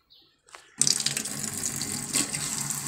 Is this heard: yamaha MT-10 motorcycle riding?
no